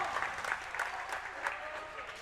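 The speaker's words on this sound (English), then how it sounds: "You can see Bill Stewart, the biggest cheer of all." A home crowd at a high school volleyball game cheers and applauds steadily during a comeback, a dense roar of claps and shouts that swells in bursts, heard from across the gym.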